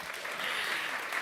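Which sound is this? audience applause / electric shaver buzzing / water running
audience applause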